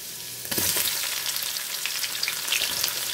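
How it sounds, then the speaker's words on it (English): Onions dropped into hot oil in a pan with garlic for chicken rice noodles, bursting into a loud sizzle after a quiet start and then hissing steadily with small crackles. "then I'm gonna add my onions."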